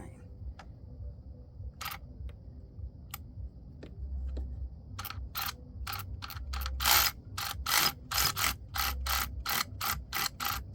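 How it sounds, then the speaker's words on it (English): A ratchet clicks in quick rhythmic pawl ticks, then a 1/4 inch torque wrench snaps as a spark plug is tightened in a 2016 Ford F150. The sound is close and crisp, with faint low background. "we're gonna torque it with the 1/4 inch torque wrench."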